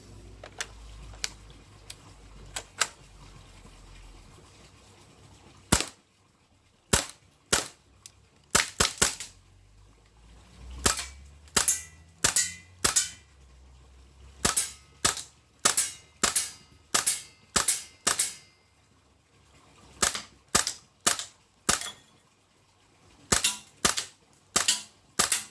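A Crosman AK1 air rifle fires again and again, giving sharp, close cracks that come singly and in quick clusters, with near silence between the shots.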